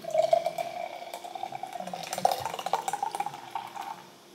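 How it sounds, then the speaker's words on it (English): Champagne pours into a glass, a bubbly gurgling stream with faint fizzing and clinks, rising in pitch slightly before stopping. "And I'm getting ready to pour my little champagne."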